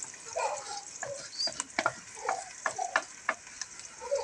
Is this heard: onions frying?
yes